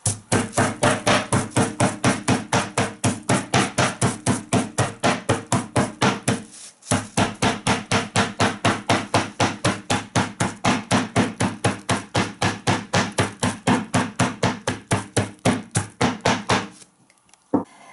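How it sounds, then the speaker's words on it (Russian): A meat mallet pounds turkey liver in a fast, steady rhythm of dull thuds, continuing for many seconds with one short pause midway. "И вот этой частью молоточка отбиваю."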